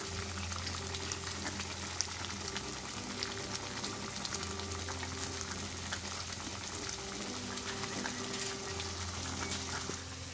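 Eggplant frying in oily masala gravy in a pan, giving a constant dense sizzle and bubbling crackle at moderate volume with no talking.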